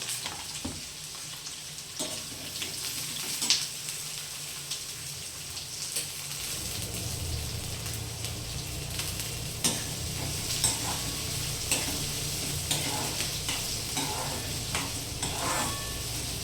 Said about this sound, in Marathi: याला मी चांगलं ब्राऊन करून घेणार आहे कांद्याला.